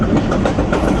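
A train rolling on rails, a loud, close, continuous rumble with rhythmic clickety-clack, heard alone.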